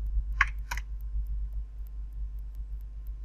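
A few quick keystrokes on a computer keyboard, soft, close clicks heard alone over a low steady hum.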